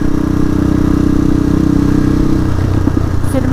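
A motorcycle engine runs steadily at close range, a loud continuous throbbing hum that shifts slightly toward the end, during a ride at sunset.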